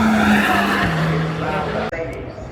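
Mercedes-AMG Black Series launches up the Goodwood hill, a loud close engine roar with a falling tone and tyre noise, ending in a sharp cut, with a commentator talking over it.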